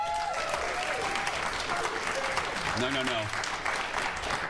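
A talk-show studio audience applauds in a steady, sustained wash of clapping while someone speaks over it.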